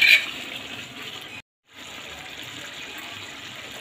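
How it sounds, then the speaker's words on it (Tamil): Water pours steadily into a pot of chicken biryani, a soft splashing gush that breaks off for a moment and then resumes at a lower, even level. "பிரியாணிக்கு தேவையான தண்ணி சேர்த்துக்கலாம்"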